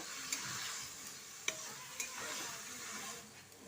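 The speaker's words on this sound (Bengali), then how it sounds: "ম্যারিনেট করা বাঁধাকপিটা দিয়ে দিচ্ছি আর এই থালার মধ্যে সামান্য একটু জল দিয়ে ধুয়ে দিয়ে দিচ্ছি এবার ভালোভাবে মিশিয়ে নিচ্ছি" Marinated cabbage is mixed in a pan, a quiet bubbling sizzle underneath a few sharp clicks of a utensil against metal and soft stirring scrapes; no voices.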